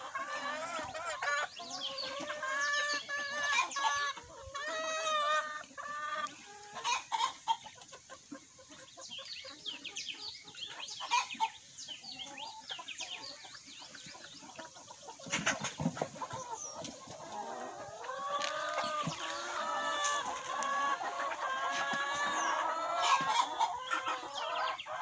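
Hens cluck repeatedly in a farmyard while they sunbathe and take dust baths, the calls layered and continuous at close range, with a louder burst of clucking near the end.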